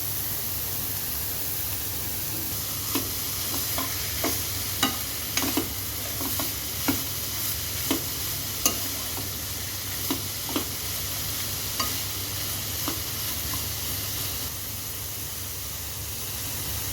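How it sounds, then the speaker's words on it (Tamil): Carrot, then capsicum, fries in a pan under a constant hiss of sizzling, broken by a string of spaced spatula clicks and scrapes against the pan. "கேரட் ஒரு 2 minutes இந்த மாதிரி நல்லா ஃப்ரை பண்ணதுக்கப்புறம் நம்ம கேப்சிகம் ஆட் பண்ணிடலாம்."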